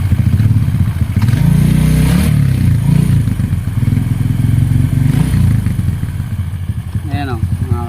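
Honda RS 125 two-stroke motorcycle with a weak oil pump output, engine idling loud and close and revved in short bursts, with people talking over it.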